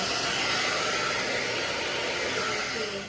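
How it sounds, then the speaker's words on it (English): A hair dryer blows with a steady, loud, continuous whoosh, running without pause and easing slightly at the very end. "you're just going to take your blow dryer again and go"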